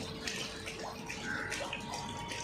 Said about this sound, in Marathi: भातासाठी टोप ठेवला आहे पाणी आता त्याच्यामध्ये पाणी टाकत आहे